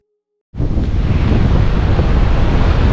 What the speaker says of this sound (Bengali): নিচে সমুদ্র আর আমি প্যারাশুটের উপরে